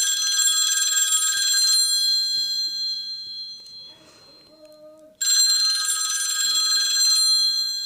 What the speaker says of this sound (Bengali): ভেতরে ফোন বাজছে